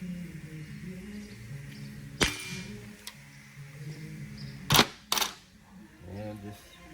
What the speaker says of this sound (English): we're gonna go ahead and cut these push rods. Get out your trusty bolt cutters.